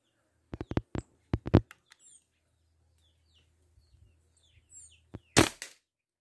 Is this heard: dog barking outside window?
no